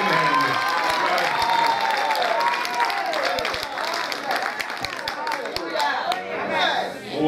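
A church congregation at a Haitian evangelical service claps and applauds, the sound thick and continuous at first, then thinning into scattered claps. Voices call out over it.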